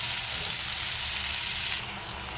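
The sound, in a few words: poppy seeds frying with onion on low flame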